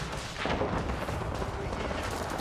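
Hand cannoneers and grenadiers fire in a 3v3 Age of Empires battle, a dense, continuous rumble of overlapping gunfire and blasts over battle noise, with faint talk underneath.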